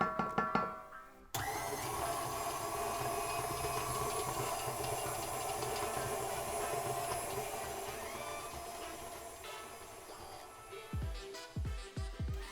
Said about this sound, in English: if you have a mixer, just put it on medium high and mix it for 3 minutes